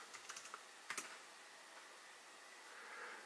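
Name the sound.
typing a command on a computer keyboard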